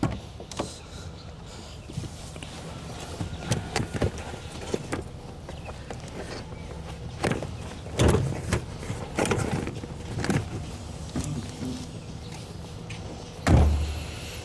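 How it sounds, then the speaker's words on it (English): The bonnet of a fully nut-and-bolt restored, modified Opel Kadett Superboss is opened: a few metallic clunks and latch clicks, with a louder thump near the end, over a low ambient rumble. "can you open the bonnets and show us?"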